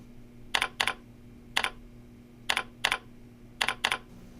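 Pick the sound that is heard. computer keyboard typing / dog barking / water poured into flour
computer keyboard typing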